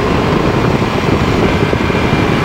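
An SSDR microlight aircraft's engine holds a steady, loud, broadband drone at cruise throttle, with wind noise mixed in and no voices.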